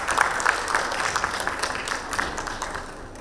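Conference audience clapping in a hotel event room, a steady patter of many hands at moderate distance, swelling briefly and then gradually thinning out toward the end.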